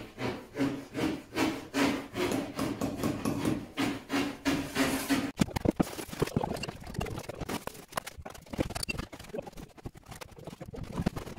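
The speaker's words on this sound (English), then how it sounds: "Tim and Josh just put your king span in, that's what you can hear" Kingspan insulation boards being fitted during internal block wall work, with a rhythmic rasping, sawing scrape repeating for several seconds, then irregular knocks, rubs and clatter, close but fairly quiet.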